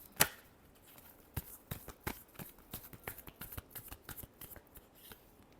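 Tarot cards being shuffled up close, a quick run of crisp riffling flicks and taps in an irregular rhythm, quiet and alone with no talk.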